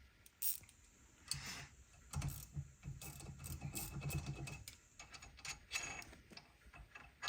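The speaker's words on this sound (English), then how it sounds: "So we're gonna take this pad retaining bolt out. It is a 8mm." A ratchet wrench loosens the 8mm rear brake pad retaining bolt on a C5-C6 Corvette during a brake kit install. It gives bursts of quick, close mechanical clicking with short pauses between them and no talking.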